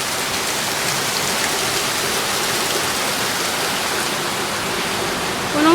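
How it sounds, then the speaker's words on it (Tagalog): Floodwater pouring into a house during a flood, a steady loud broadband rush like heavy rain or a waterfall that continues without a break. "Punong-puno na po ng tubig ang bahay namin."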